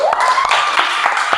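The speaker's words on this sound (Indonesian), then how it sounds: "Tepuk tangan untuk Ibrani dulu." Students in a classroom clap together in brief applause, a quick run of sharp hand claps close by, with a voice briefly over them.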